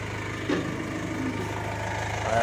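A Mazda Bongo van's engine idles after running hot for twenty minutes, a steady low rhythmic thrum with faint mechanical ticking, swelling slightly in level toward the end.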